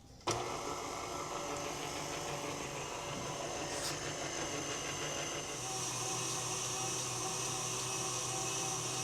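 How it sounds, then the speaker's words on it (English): Stand mixer whipping icing for a drip cake: a sudden start, then a steady close motor whine and hum that runs without a break and shifts slightly in pitch partway through. "we're going to mix this on low for about 2 minutes and then high"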